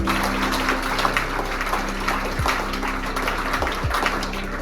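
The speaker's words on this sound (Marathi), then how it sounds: "यांच्यासाठी जोरदार टाळ्या वाजवा." An audience bursts into loud, sustained clapping for students who have just performed a street play, a dense, steady wash of many hands that lasts throughout with no voices on top.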